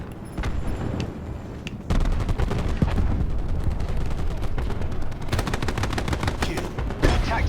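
Heavy, rapid gunfire from a sniper's nest in Call of Duty: Black Ops 4 multiplayer, a loud, sustained barrage of overlapping shots with sharp individual cracks and booming impacts.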